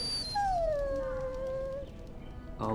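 A dog in the Dragon Age: Origins video game gives a single drawn-out whimpering whine that slides downward and fades, followed by a short sharp sound at the end.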